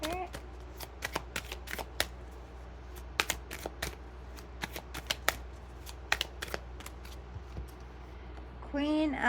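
Tarot cards shuffled by hand during a reading, giving a run of sharp, irregular riffling bursts and snaps, close and fairly quiet over a low steady hum, with a brief voice near the end.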